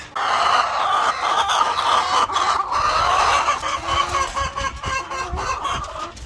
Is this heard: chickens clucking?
yes